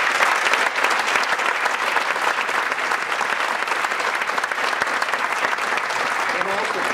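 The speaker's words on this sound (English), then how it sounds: "Give him an extra round of applause." Sustained, dense applause from a large audience at a ceremony welcoming a $35 million railcar manufacturing plant, steady and loud throughout with no break.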